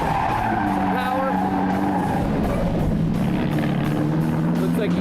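A drift car skids after a clutch kick, engine revving high with a loud, sustained tire squeal and roaring exhaust close by, the pitch rising and falling as the car slides, with a voice talking over it.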